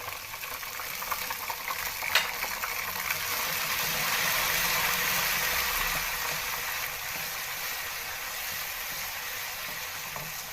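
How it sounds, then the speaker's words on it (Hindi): Garlic ginger paste fries in oil with browned onions for chicken karahi, a steady soft sizzle and crackle lasting throughout, with a faint clink of a utensil early on and no talking. "एक से 2 मिनट तक हम थोड़ा सा फ्राई करेंगे अच्छी खुशबू आने तक"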